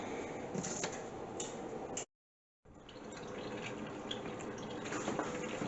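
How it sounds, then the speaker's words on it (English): Vinegar pours steadily into a garlic pork marinade with a continuous splashing, trickling flow, broken by a brief silent gap before the pouring resumes. "then we'll add the vinegar to it"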